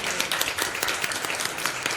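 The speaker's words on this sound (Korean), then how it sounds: "뒤돌으시고 인사하시면 우리 진짜 수고 많으셨다고 박수 한번" A church congregation claps for members at a Sunday morning service, a dense, steady burst of many hands with crisp individual claps standing out, fairly close and sustained through the whole moment.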